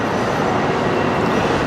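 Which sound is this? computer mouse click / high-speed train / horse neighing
high-speed train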